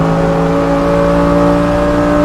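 A race car at full power on the Spa-Francorchamps circuit, its engine a loud, sustained high-revving drone with steady harmonic tones heard from on board, no talking.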